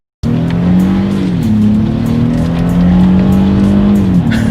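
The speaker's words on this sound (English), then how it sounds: "Let's do a quick little paddle shifter test here, and let's see how quickly they react for us." A Honda Passport accelerates hard in manual mode, its engine note climbing steadily and loudly with brief dips as paddle-shifted gears change, close and continuous with no talk.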